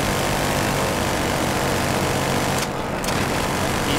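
A helicopter in Battlefield Hardline multiplayer roars loud and close as a constant rotor and engine drone, briefly dipping for a moment midway before resuming.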